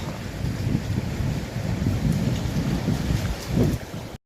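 Steady rain hisses with low rumbles of thunder rolling underneath, loud and continuous with no voices.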